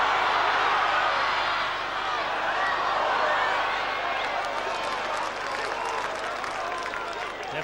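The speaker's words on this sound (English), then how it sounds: "The Widnes crowd beginning to warm to their side at last." Rugby league crowd at Widnes v Bradford, a broad sustained wash of applause and cheering from a large stadium audience, steady and loud throughout, with a commentator talking over it.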